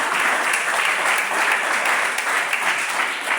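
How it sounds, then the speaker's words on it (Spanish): A church congregation applauds in praise during a worship service at a prison evangelism gathering; dense, steady clapping fills the whole stretch at close range with no pauses. "Dele ese aplauso al Señor si lo cree."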